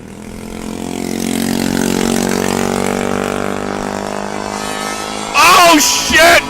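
An 80cc two-stroke motorized bike engine revs loudly and steadily with a rising, wavering buzz, while a brief burst of nearby voices breaks in near the end.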